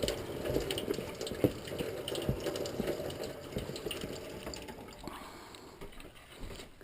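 Water runs from a tap into a measuring cup while a lemon meringue pie is being made in a home kitchen, a steady splashing fill with small clinks, close and continuous, gradually thinning toward the end, with no talking.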